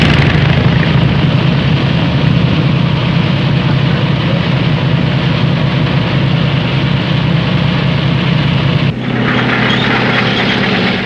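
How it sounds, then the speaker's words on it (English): P-38 fighter aircraft fly over advancing forces in 1943 North Africa, a continuous loud engine drone that cuts abruptly to a different, thinner engine tone near the end, no voices. "P-38s move ahead of the advancing forces"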